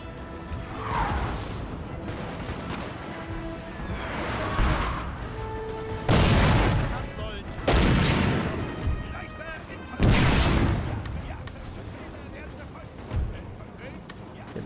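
Musket volleys in a Napoleon Total War battle, with sharp cracks and crashing booms at about 6, 8 and 10 seconds over a constant battlefield din, and a voice talking throughout.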